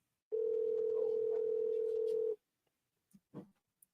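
A telephone dial tone hums steadily for about two seconds while a call is being placed, then cuts off, followed by a few faint clicks and soft handling sounds.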